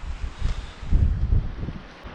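Strong gusts of wind gusting to 50 or more buffet the microphone by a lake on an island, roaring and rumbling in uneven surges with no voices.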